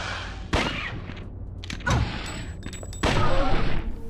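Gunshots in the PlayStation video game Dino Crisis: three loud, sharp blasts spaced over a few seconds, each with a short ringing tail, over a steady game background with no talk.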